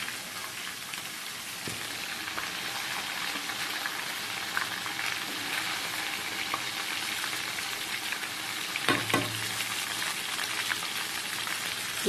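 Masala-coated Peshawari-style Rohu fish frying in a pan: a continuous, rain-like crackling sizzle with a couple of brief clatters, heard up close without talk.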